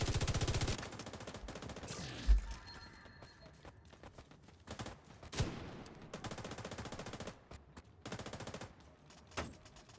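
Automatic gunfire in the video game The Division 2, rapid bursts of shots separated by pauses, with a few sharper louder reports standing out against the quieter firing.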